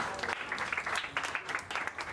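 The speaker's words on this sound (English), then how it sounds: "So richly deserved applause" Crowd applause at a Formula 2 race in Baku, Azerbaijan, marking the sprint podium finishers, a steady patter of clapping with slight swells, heard with some voice mixed in.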